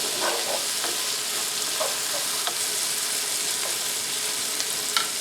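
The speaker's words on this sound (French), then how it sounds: "On laisse cuire les oignons et les champignons de 4 à 5 minutes." Onions and mushrooms frying in a pan on raised heat for a chicken fricassée, a steady close sizzle with faint crackles and a few sharper pops, no voices.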